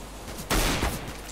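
A single loud burst of rifle fire in CS:GO, a short sharp volley rising out of steady game background noise.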